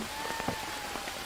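Steady rainfall in the Amazon jungle survival game Green Hell, a dense, even hiss of drops across the whole moment with a few soft patters rising out of it, no voices.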